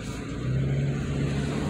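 A brand new Subaru loaner car drives along with a steady engine hum and a rising tone, heard from close by with road rumble beneath.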